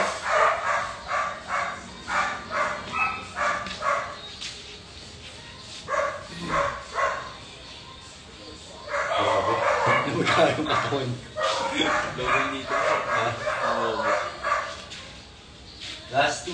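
A dog yips and barks in repeated rhythmic bursts, mixed with whimpering, close and fairly loud, while a person talks over and between the sounds.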